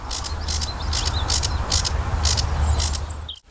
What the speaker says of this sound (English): You can hear it giving out like hell behind me.